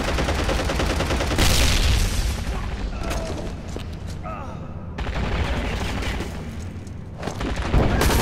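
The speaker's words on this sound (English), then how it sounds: "Throwing frag." A frag grenade is thrown and blows up in a video game, producing a loud, broad blast amid ongoing rattling gunfire, with several heavy bursts across the clip and a voice talking over it.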